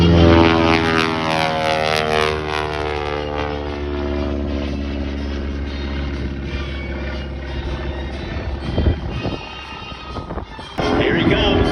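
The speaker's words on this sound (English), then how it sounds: "the steerman will climb into the sun-filled skies" A Boeing PT-17 Stearman biplane's radial engine drones loudly overhead at an air show in El Reno, its steady propeller roar shifting in pitch as it passes, with wind adding to the sound.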